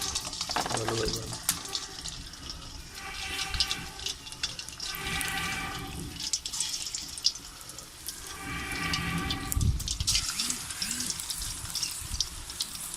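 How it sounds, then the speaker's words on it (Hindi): Koftas dropped one by one into hot ghee, a continuous sizzling and bubbling fry with rising surges, close, with a person speaking over it. "ये घी हमारा गर्म हो गया है। अब हम एक एक करके इसमें कोफ्ता रखते जाएंगे।"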